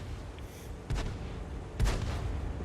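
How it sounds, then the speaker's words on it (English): A Type 64 tank firing on the player in a tank battle game, with two distant, muffled cannon shots about a second apart over a steady low rumble of engine and battlefield noise. "I'm getting shot by the Type 64"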